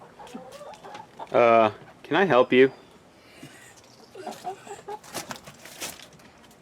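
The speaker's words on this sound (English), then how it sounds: "The chicken." Backyard chicken clucking in short bursts near the start, a few loud pitched squawks followed by softer clucks, with a person speaking briefly over them.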